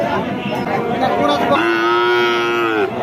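A heifer calf at a cattle market gives a long, loud, close moo that swells and holds for over a second, over a murmur of crowd noise.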